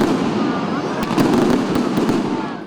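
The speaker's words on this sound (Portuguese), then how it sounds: "E para comemorar o encontro das bandeiras, fogos, um espetáculo à parte." Fireworks at a Festa do Divino flag meeting in Luziânia burst in a loud, dense barrage of crackling pops and bangs over a rumbling crowd, with voices mixed in.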